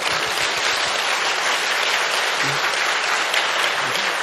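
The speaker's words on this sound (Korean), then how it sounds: "왜 이렇게 박수 쳐?" A church congregation claps loudly and continuously, a dense wash of applause with an occasional muffled voice underneath.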